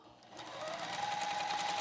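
A sewing machine stitching quilt pieces on a table runs up to speed, a fast, steady mechanical whirring that builds from quiet to a constant hum over a couple of seconds.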